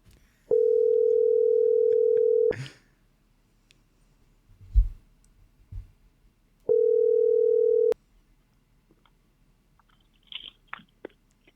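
Outgoing telephone call ringback tone, two steady beeps of about two seconds and one second separated by a long gap, with faint clicks and handling noises in between and after.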